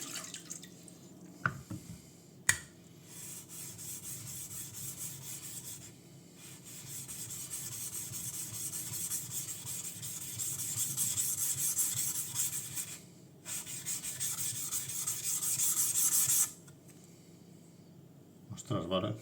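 A blade is rubbed back and forth on a wet Naniwa Chosera 400 grit whetstone, giving a soft, steady scraping hiss in long strokes broken by short pauses and a couple of sharp taps, close and fairly quiet, with a voice speaking faintly underneath.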